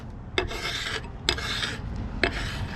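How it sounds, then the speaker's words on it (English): A hand scraper rasps black filler coat off a machine tool being restored, in three long, even strokes, each opening with a sharp bite and then a sustained gritty scrape, close and clear. "it comes off nicely scraping it like this"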